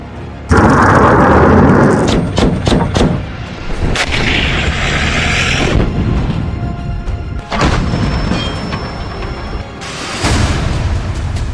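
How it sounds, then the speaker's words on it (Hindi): Heavy booms and blasts from drone, rocket and missile attacks on Kyiv during an air raid, several loud close detonations and sharp cracks in quick succession, then rumbling and further bursts. "ड्रोन और रॉकेटों से एक साथ हमले हो रहे हैं।"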